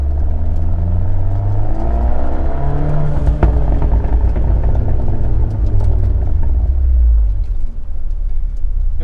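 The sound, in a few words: car driving with Ragazzon valved exhaust, valves open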